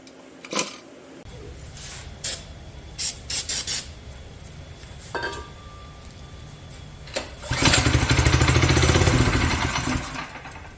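A Predator 212 engine swapped into a Polaris quad, heard as a few clicks and cranking attempts before it catches and settles into a loud, steady running idle for the last few seconds.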